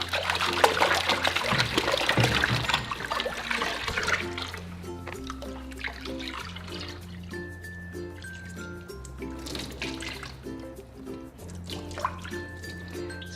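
Hair extensions are rinsed vigorously in clean water, giving steady splashing, dripping and trickling, loudest early on and then settling into a softer, continuous wash with a tonal hum underneath.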